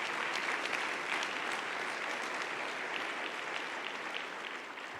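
Congregation at a Sunday church service applauding together, a steady, dense wash of clapping that holds for the whole stretch and eases slightly toward the end.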